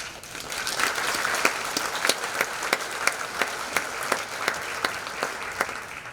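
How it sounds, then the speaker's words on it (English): Audience at a neighborhood summit in Hamilton giving a steady round of applause, a dense even wash of many hands clapping with a few sharper claps standing out, moderately loud and sustained. "Can we get one more round of applause"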